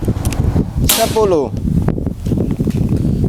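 A single sharp crack from a PCP air rifle, the shot bright and abrupt near the middle, set against faint background noise and a short whooshing tail.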